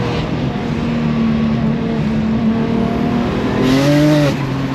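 A 1000 hp BMW 1 Series roars under hard acceleration, a loud, steady engine drone with harmonics climbing toward the end, heard up close and alone.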